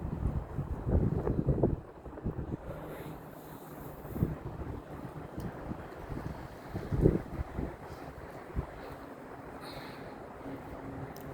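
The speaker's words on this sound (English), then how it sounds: "It's quite windy though." Wind gusting across an open pond setting, a steady outdoor rumble with louder buffeting bursts near the start and around the middle, no voices heard.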